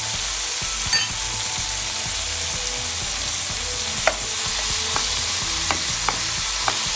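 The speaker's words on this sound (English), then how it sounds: "I am now going to add my onion wedges." Onion wedges sizzle steadily in a hot pan alongside beef for a sesame beef stir fry, a continuous close frying hiss with occasional soft clicks and scrapes of stirring, no talk.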